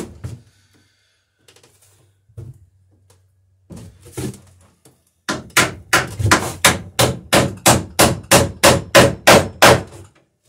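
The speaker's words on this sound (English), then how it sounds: "It's going through this plank that I'm just nailing on, and it's also going through the lap of the plank below it." A hammer drives nails through overlapping wooden planks on a dory hull. After a few quiet taps and handling sounds, a steady run of about fifteen sharp, close blows lands in even rhythm.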